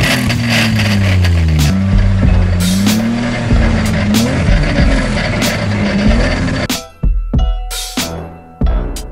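BMW E30 drift car built for winter drifting revs hard near by, its exhaust note climbing and falling in repeated loud blips, ending in sharp bursts and short pauses.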